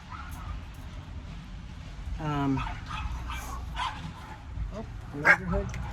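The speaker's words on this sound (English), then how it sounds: "The neighborhood dogs are out." Neighborhood dogs bark outdoors at a distance, with a few scattered yips and barks that come through faintly under a low, steady background hum.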